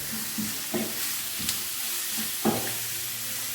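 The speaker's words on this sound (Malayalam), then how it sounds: "ഇപ്പൊ പെട്ടെന്ന് ഉള്ളി വഴണ്ട് കിട്ടും." Onions sauté in a hot pan for Kerala chicken thoran, with a soft continuous sizzle and a few scattered clunks from stirring.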